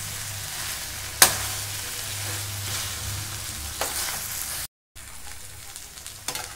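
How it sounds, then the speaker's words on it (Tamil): Food sizzles steadily in a hot pan with a soft continuous crackle, broken by a few sharp clinks of a utensil against the pan, while drumstick leaves (murungai keerai) sauté. "ஒரு 2 நிமிஷம் நல்லா வதங்கட்டும்."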